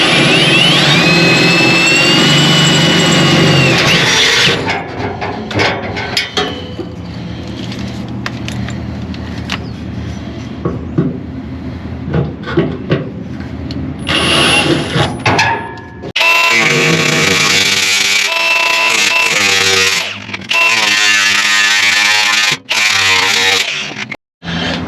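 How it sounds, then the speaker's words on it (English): A loud, harsh drilling grinds an access slot into metal on a Chrysler 300 during a window motor replacement, in long bursts, with rattling mechanical noise and brief pauses between passes. "I'm going to drill an access slot."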